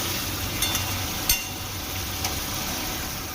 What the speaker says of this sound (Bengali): এবার সমস্ত বেটে রাখা সমস্ত মশলা আর স্বাদ মতন লবণ আর হলুদ দিয়ে খুব ভালো করে কষিয়ে নিতে হবে